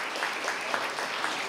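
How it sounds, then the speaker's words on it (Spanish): Brief burst of crowd applause at a school award ceremony, dense rapid clapping, fairly loud and steady, with no talk over it. "Un aplauso fuerte."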